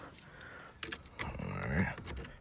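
Reproduction keys for a 1986 Chevrolet Caprice Classic Landau jingle and clink close up in a few quick metallic rattles, with faint talking in the background.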